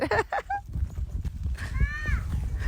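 Horse hooves clip-clop on a street in Istanbul, with a faint irregular clatter beneath short bits of talk and a brief whinny-like call.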